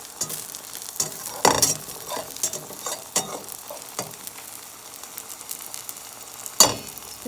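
An omelette with collard greens fries in a pan with a steady sizzling hiss, broken by a few sharp scraping and tapping strokes of a utensil, close and without speech.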